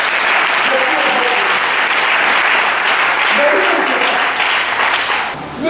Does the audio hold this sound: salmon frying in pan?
no